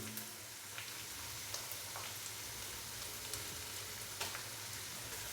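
Ginger garlic paste frying with onion paste in a pan for black pepper chicken makes a soft, constant sizzle, dotted with light clicks of stirring.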